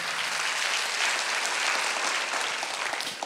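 Church congregation applauding steadily through a Sunday worship service, a dense, even wash of clapping from many hands that holds at constant loudness from start to finish.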